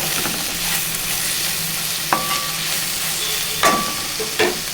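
Ivy gourd fries in a pan with a steady sizzle, and a spoon knocks and scrapes against the metal a few times as it is stirred, close up.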